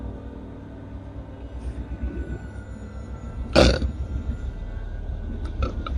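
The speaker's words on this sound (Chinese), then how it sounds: "我打嗝了，真打嗝了。" A single loud, throaty burp bursts out about midway, standing clearly above a steady low rumbling background.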